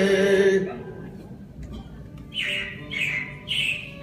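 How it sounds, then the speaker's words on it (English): Animatronic robins in the Carousel of Progress show give three loud, close, bright squawking chirps in a row after a musical phrase fades out, with a steady hum of the attraction underneath. "it looks like the Robins are getting ready to celebrate Valentine's Day today"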